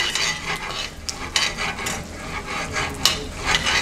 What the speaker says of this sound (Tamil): நல்லா நம்ம ஃப்ரை பண்ணிக்கணும்.